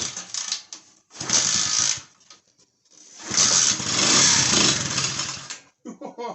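An old, neglected motorbike engine coughs into life in two bursts, catching briefly and then running rough for a few seconds before cutting out, close and loud, with short gaps of near silence between.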